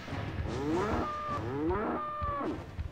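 A cow-like monster in the game Resident Evil 1.5 lets out two long, loud, low moos back to back, drawn out and bellowing, with no talk over them.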